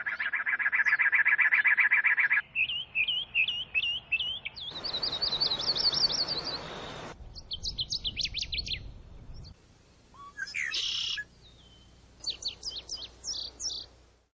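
A run of different bird songs and calls plays one after another: a buzzy trill, rapid chirped phrases, high warbling notes and sharp repeated whistles, all clear and close with no talk.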